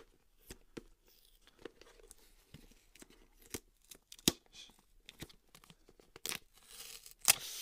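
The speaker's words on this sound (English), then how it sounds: "Let's go and get this tape off." Packing tape being peeled off a Samsung Galaxy S10 Plus box makes a series of quiet, sharp tearing and crinkling bursts, irregular and close, louder near the end, with no speaking.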